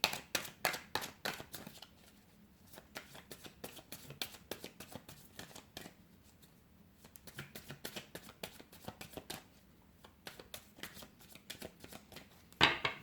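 Tarot cards are shuffled by hand in close, quick riffling bursts, with short pauses between rounds and a sharp card snap at the end; no voices.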